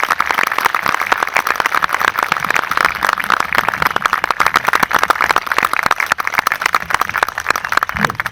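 Sustained, loud audience applause at a country club launch ceremony, dense and even clapping from a large crowd lasting around eight seconds.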